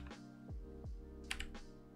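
A few scattered clicks of keys pressed on a computer keyboard, set up for gaming on an Orange Pi 5, tap out under a steady humming background.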